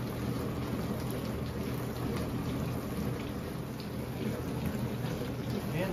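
Steady rushing spray of water inside a Whirlpool dishwasher after a no-spray fault is fixed, a continuous hissing wash with faint patter, running evenly throughout without pause.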